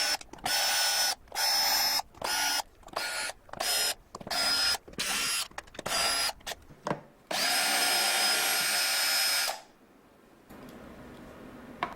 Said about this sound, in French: Dévissez toutes les vis du deck.